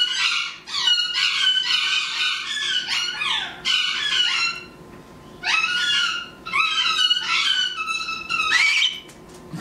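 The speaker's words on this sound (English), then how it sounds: "other birds making noise, those are golden conures, and they're just like, they're so noisy" Golden conures give loud, harsh squawking calls in repeated bursts with short pauses between them, close and noisy.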